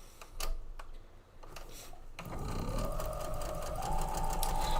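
A sewing machine runs steadily, stitching two matched seams together, after a few quieter handling sounds at the start; the motor hum stays loud and continuous, rising slightly in pitch near the end.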